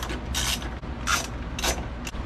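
A ratchet wrench works two 5/16 bolts loose from the firewall plate of a 1966 Chevy C10: three short bursts of rapid metallic clicking, close and fairly loud, with brief pauses between them.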